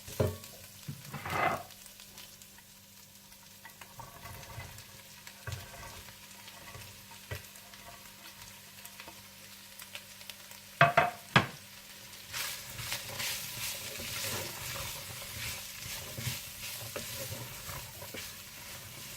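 Chicken being stir-fried with capsicum, carrot and cabbage for Singaporean rice, a steady sizzle broken by a few sharp scraping stirs, with the frying growing louder and fuller toward the end; no voices.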